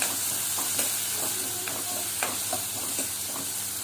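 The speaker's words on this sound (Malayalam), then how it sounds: "ഉള്ളി നന്നായിട്ട് മൊരിയട്ടെ" Chopped onions frying in a pan for a prawn roast, a steady close sizzle with intermittent scraping stir strokes, no voices.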